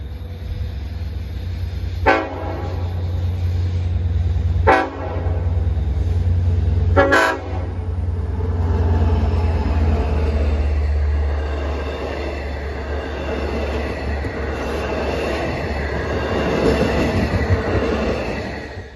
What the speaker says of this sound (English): Soon train 1656 will be coming from Grand Central to Huntington